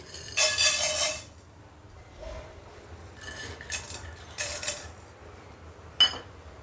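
Dry urad dal is tipped into a pan on the stove, giving a bright rattling clatter of grains and metal at the start, then further scattered clinks and a single sharp tap near the end.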